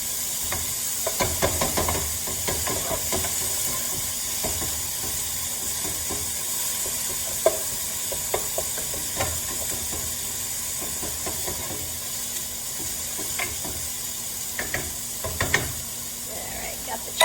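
Rinsed and drained chickpeas sizzle and hiss steadily in a pan of hot olive oil for a chickpea curry, with scattered stirring scrapes and clicks from a utensil over the continuous frying noise.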